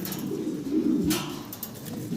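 A single low, soft pigeon coo, close by, over a faint background hiss, at a pigeon sale.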